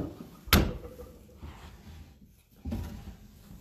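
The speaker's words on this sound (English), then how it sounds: "the doors open up" Wooden cabinet doors on an estate-sale piece of furniture are pulled open, giving a sharp knock or catch release followed a couple of seconds later by a softer thud as the second door swings free, all in a quiet room.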